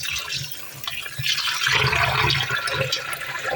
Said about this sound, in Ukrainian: А далі м'ясо необхідно залити холодною водою